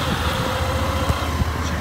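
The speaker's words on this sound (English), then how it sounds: "Let's listen to that engine." A 2015 Suzuki V-Strom 650 motorcycle engine runs at a steady idle close by, a continuous low rumble with a couple of small bumps along the way.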